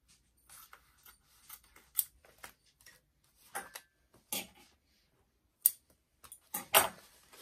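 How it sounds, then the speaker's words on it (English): Scissors or a blade cut through foam for a tote bag: scattered faint snips and crisp rustles at irregular intervals in a quiet room, with no talking. "Again, I'm going to cut this foam."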